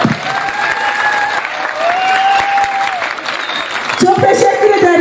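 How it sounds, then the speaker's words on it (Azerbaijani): Audience at the Qala film festival in Mustafakemalpaşa, Bursa, breaking into sustained loud applause with some cheering, while a speaker's voice carries over the clapping. "Azərbaycan-Türkiyə qardaşlığına bir gürültü alqış istiyorum."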